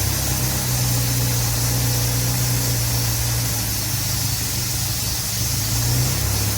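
An Austin A30/A35 car engine runs steadily indoors with the door closed, after fuel pump trouble and with the choke partly pushed in. It gives a continuous, loud, rough mechanical drone with no talking over it.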